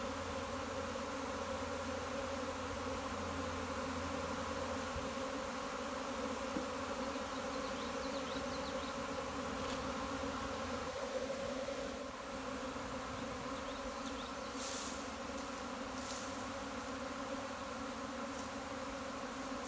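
A honeybee swarm buzzes steadily inside a beehive, a dense, even drone holding close and loud throughout with no voices over it.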